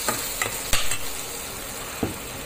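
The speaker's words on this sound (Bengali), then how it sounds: "এই মশলাটা আমি এবার কিন্তু এটাকে খুব ভালো করে ভাজবো" Spice masala with cashew nuts frying in a pan, a soft sizzle broken by a few sharp scrapes and taps of a stirring spoon against the metal, close and clear.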